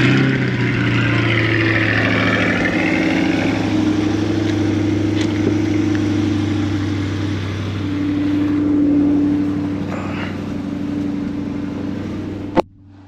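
A Chevrolet Corvette C8 with a carbon fiber body kit, its engine idling at a steady low rumble with a slight swell in revs, close by, then cut off abruptly near the end.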